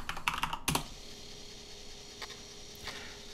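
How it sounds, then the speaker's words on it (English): Fingers type on a computer keyboard in a quick cluster of clacking keystrokes, followed by a couple of isolated, fainter key taps against quiet room noise. "we're just going to type in the word mouse"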